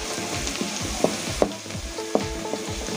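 Ingredients fry and brown in a pan for Kerala-style mango pickle, giving a steady close sizzle broken by several sharp scrapes and taps of stirring, with no voices.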